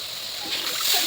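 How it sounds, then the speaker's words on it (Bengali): Water is poured into a cooking pan of dried fish chutney seasoned with cumin, a brief close hissing, splashing rush that grows slightly louder toward the end. "জল দিয়ে দিলাম।"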